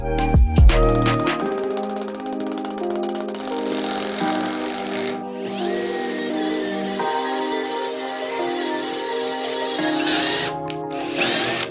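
A router machines inside cuts in an aluminum crossbow cam, giving a steady, loud, high-pitched whine that holds nearly unbroken for the whole stretch, with one brief dip partway through and a few short breaks near the end.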